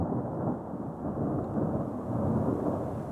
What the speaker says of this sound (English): I hope you could hear that. That was the thunder.